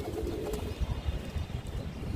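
A homing pigeon that has just returned coos in soft, low, rounded calls, repeated a few times against a steady, noisy outdoor background.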